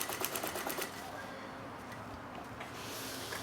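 A sewing machine stitching parallel lines with a long basting stitch for shirring, giving a fast rhythmic rattle for the first second before fading into a softer hiss and faint mechanical noise.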